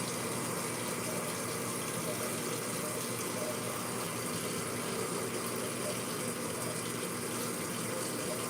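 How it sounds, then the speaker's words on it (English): Hot water pouring from a kitchen tap into a cooking pot, a steady broadband rush that stays even and continuous throughout at moderate level, with no talk over it. "I'm going to make sure as soon as I'm done here filling up this pot with water"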